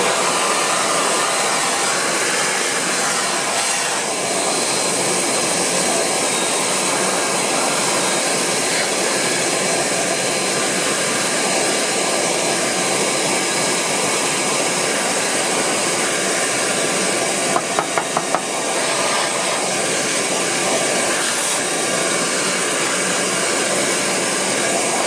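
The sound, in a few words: vacuum cleaner cleaning dust from a DI box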